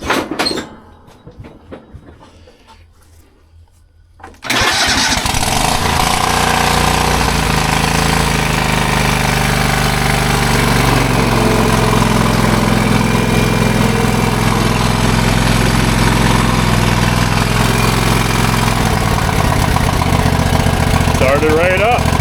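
A John Deere lawn tractor engine, just fitted with a replacement starter, cranks briefly and then catches, settling into a loud, steady idle that runs on continuously after a short quiet stretch.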